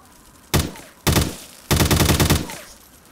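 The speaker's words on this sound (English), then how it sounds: "Oh, this fires 10mm rounds." Three bursts of automatic gunfire from a video game weapon firing 10mm rounds, each a loud, rapid volley, the last one longest, separated by short pauses over quiet background.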